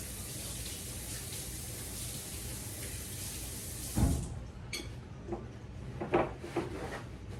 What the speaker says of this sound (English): let me wash that off my hands real quick